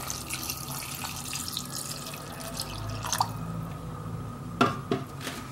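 Water pours and splashes into a cooking pot holding chickpeas and calf feet, a faint, steady trickle with a few louder sloshes and drips near the end.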